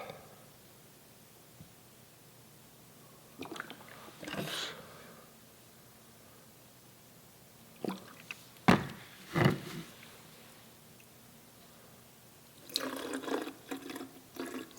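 Rubbing alcohol, about 4 ounces, is poured into a bottle to make homemade hand sanitizer. The liquid splashes and trickles in three short bursts separated by quiet pauses, close by, with no talking.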